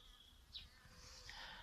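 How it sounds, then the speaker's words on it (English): In a Danish spring garden, a single bee buzzes faintly around a water tray set beside a pond, its thin whine drifting over quiet outdoor background noise. "One bee comes,"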